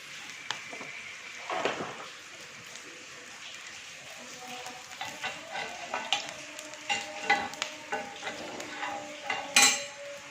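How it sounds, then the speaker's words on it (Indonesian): Oil sizzles and crackles steadily as tempeh fries, with occasional clinks and scrapes of a utensil against the pan. "Sekarang tinggal kita goreng aja. Yuk kita goreng."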